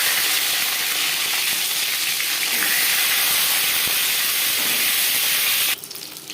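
An egg sizzling and frying in hot refined oil, a loud, dense, continuous close hiss with crackle that drops off abruptly near the end.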